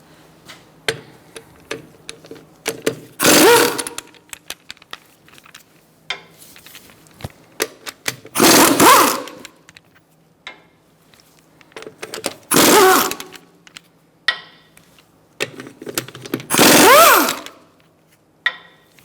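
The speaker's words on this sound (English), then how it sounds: "Using a 17mm socket, we're going to remove our wheel fasteners." An impact wrench fitted with a 17mm socket removes the wheel fasteners on a 2012–2019 Fiat 500 1.4L, with four loud, separate bursts of rattling hammering, each a second or so long, spaced by quieter handling clicks.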